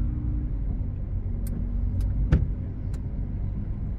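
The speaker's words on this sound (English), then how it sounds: "there's one thing what I noticed, listen to is when the wiper is going" Windscreen wiper on a 2019 Proton Saga 1.3 Standard automatic sweeps with a few faint, sharp clicks spaced about half a second apart, heard from inside the cabin over a steady low engine and road rumble.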